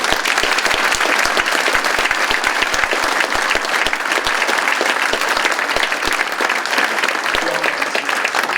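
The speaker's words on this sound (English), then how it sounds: "A round of applause to all the students." Students are applauded by the crowd at a Veterans Day ceremony, loud sustained clapping filling the room evenly for several seconds with occasional sharper individual claps standing out.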